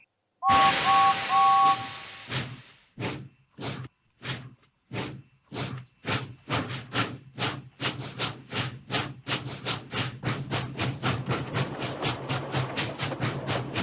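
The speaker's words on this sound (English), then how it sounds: "the guard blew his whistle" A sharp train guard's whistle blast at the start, followed by rhythmic steam chuffs that quicken as a steam engine pulls away.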